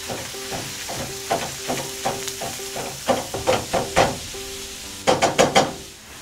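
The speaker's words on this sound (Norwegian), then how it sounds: "La kjøttdeigen få ligge et par sekunder i panna før du begynner å hakke." Ground beef straight from the pack frying in a generously oiled pan, a soft constant sizzle under a run of sharp repeated chopping and scraping taps from a utensil breaking up the meat, close and clear.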